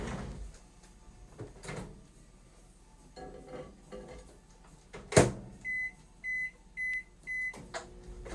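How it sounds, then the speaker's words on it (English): Clatter of dishes and a door thud, then a microwave door shuts and a row of four sharp electronic beeps follows as the oven is set for 30 seconds to make chocolate fudge. "and put it in the microwave"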